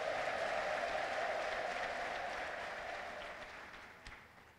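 A church congregation claps in sustained applause with a high ululating tone over it, loud at first and then slowly fading over several seconds.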